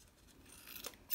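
Scissors trim paper for a glue journal, a soft, close run of snipping that ends in one sharper, louder closing snip near the finish, with no speech.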